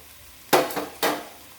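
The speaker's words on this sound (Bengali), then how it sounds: "আলুর সাথে সোয়াবিনটাকে ভাজা হয়ে গেছে এবার এর মধ্যে দিয়ে দেবো এরকম পেঁয়াজ থেতো করা" Crushed onion hits hot oil with frying potato and soybean, giving two short sharp sizzles half a second apart that fade quickly into quiet, with no talking.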